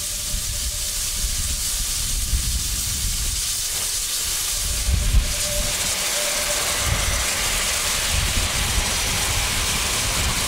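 A narrow-gauge steam train on the Selketalbahn approaches Mägdesprung station, giving a steady broad hiss of steam with low rumbling chuffs from the engine, moderately distant.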